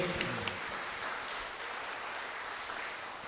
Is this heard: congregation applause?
yes